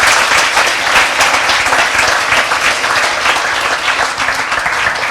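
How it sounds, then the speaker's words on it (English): A large audience at a debate on the historicity of Jesus applauds the speakers Trent Horn and Richard Carrier, a loud, dense and sustained roar of clapping filling the hall from start to finish. "Please, everyone, give a big round of applause to both of our speakers, Trent Horn from Catholic Answers and Dr."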